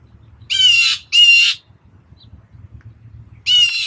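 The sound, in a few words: bird calling, likely crow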